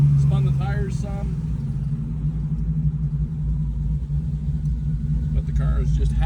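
A car engine pulls hard out of a second-gear corner, a deep rumbling drone that builds as power is fed in, with someone talking over it at the start and end.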